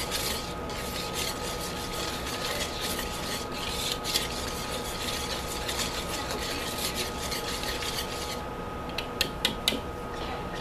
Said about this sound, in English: And then we're just gonna whisk that into it.